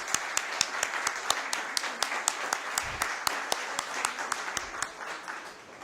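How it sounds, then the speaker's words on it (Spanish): At a poetry festival event in Santo Domingo, a crowd applauds steadily with a few sharp, prominent claps standing out in a regular rhythm over a softer, diffuse clapping bed. "A ellos un fuerte aplauso."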